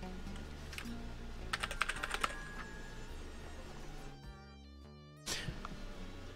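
Keys clatter on a computer keyboard during play of The Textorcist, an indie PC game, as quick bursts of typing over background game music, followed by a short pause and then more keystrokes.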